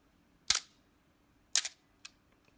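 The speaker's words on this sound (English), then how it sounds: "Testing the shutter." Canon A-1 35mm film camera shutter firing, two crisp mechanical snaps about a second apart, then a softer click, close and isolated in a quiet room.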